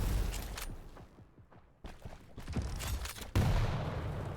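Rocket launcher fire and explosions in the arena shooter Quake Champions, a series of sharp blasts and booms with rapid weapon bursts, gaps of quieter action between, and a loud impact near the end.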